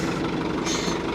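A New Holland tractor engine idles with a steady low rumble, heard from inside the cab, with a brief brighter hiss rising partway through.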